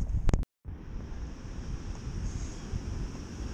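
Strong wind gusts across a beach by an angry ocean, a steady broadband roar buffeting the microphone after a few sharp knocks and a brief cutout at the start.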